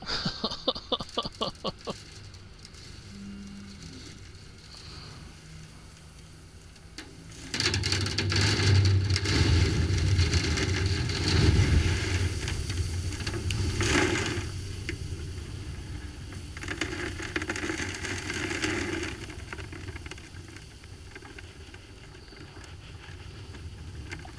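A few sharp knocks, then a big tractor engine roars up nearby while hauling gravel for a driveway, rumbling loudly, with clattering and a rushing noise, before easing slightly.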